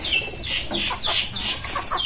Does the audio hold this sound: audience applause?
no